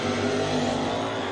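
Drag racing cars roar down the strip, a 1972 Chevrolet Chevelle among them in the other lane, a loud steady engine drone holding through the whole moment with no pauses.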